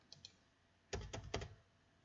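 Quick taps on a computer keyboard while entering a Control F search: two faint keystrokes, then three louder, closer presses in a brief burst, with nothing else in the room.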